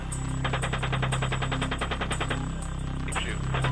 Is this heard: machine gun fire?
yes